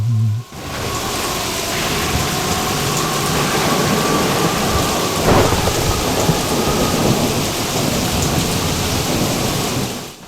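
A drama-style storm effect: heavy rain and wind roar in a thick, constant wash while deep thunder rumbles underneath, loud and sustained, with a stronger crack near the middle.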